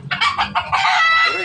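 A bantam labuyo, a wild junglefowl breed, gives a quick series of sharp, close clucks ending in a short, drawn-out call, all within about a second and a half.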